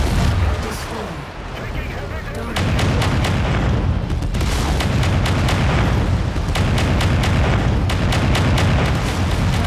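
Mech weapons in MechWarrior 5 Mercenaries fire in rapid, dense bursts of booming shots and cannon blasts over a continuous loud battle rumble, with a voice speaking over it.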